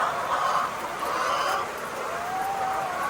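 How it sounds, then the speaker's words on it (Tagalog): Old hens cluck and murmur softly in a dim poultry house amid a steady background hum, with a faint thin whistle-like tone near the end. "Ito yung mga luma nating mga manok."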